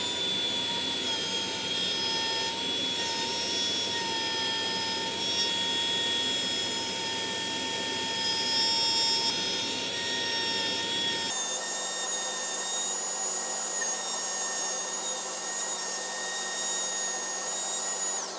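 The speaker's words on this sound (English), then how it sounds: "However, I really like using the router, so I don't mind not using this." A handheld router cuts a neck pocket in a 7-string baritone guitar body, a loud continuous high-pitched whine with steady tonal harmonics that drops to a thinner, higher tone partway through, with no talking.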